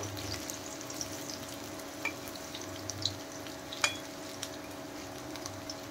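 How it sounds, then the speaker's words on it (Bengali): Drumstick flower fritters coated with sesame and poppy seeds fry in a pan of oil with a steady soft sizzle, broken by scattered crackles and one sharp pop, with no voices. "এক সাইড দেখেন খুব সুন্দর করে ভাজা হয়ে গেছে।"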